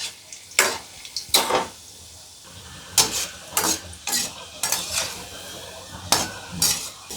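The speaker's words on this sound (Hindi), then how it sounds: "और पलटते हुए इनको गोल्डन ब्राउन सेक लेंगे।" Raw banana koftas fry in hot oil over a medium flame with a soft steady sizzle, broken by sharp scraping and clinking as a utensil turns them in the pan about every second.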